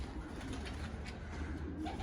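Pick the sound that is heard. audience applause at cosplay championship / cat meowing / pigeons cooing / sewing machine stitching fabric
pigeons cooing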